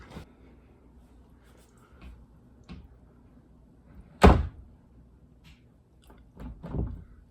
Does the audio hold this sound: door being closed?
yes